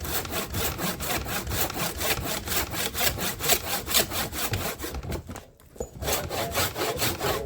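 A hand saw cuts through the wood of a splitting maul handle to remove a leftover nub during a restoration. Steady rhythmic back-and-forth strokes continue throughout with a brief pause near the end, close and moderately loud.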